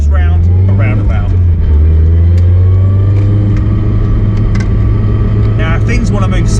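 A tuned Audi TT rated at over 450 bhp drives around a roundabout, its engine droning steadily and loudly at a constant pitch under intermittent talk from inside the car.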